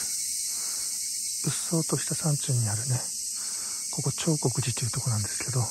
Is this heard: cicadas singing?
yes